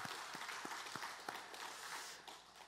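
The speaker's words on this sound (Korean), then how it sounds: "우리 하나님께 영광의 박수를 한번 돌립니다" A church congregation claps together during a Sunday service in a dense, steady wash of applause, with a few heavier thumps standing out and the clapping easing slightly toward the end.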